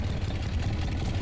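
A motorcycle engine idling in the 1995 adventure game Full Throttle, with a steady low rumbling drone that is close and continuous, with no voices over it.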